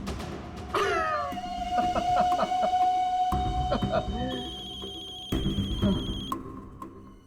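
A mobile phone rings with a repeating electronic ringtone in a tense scene from an Indian crime drama, sounding through background music and other noise before it cuts off.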